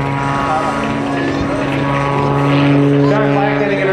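Aerobatic airplane in a flat spin at the 2010 Joint Services Open House air show, a loud steady propeller-engine drone with a pulsing, wavering tone, while an announcer talks over the public address.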